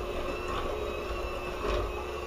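An electric stand mixer runs steadily as all-purpose flour goes into chocolate nut cookie dough. A constant motor whir with faint rhythmic pulses continues throughout, with no talk.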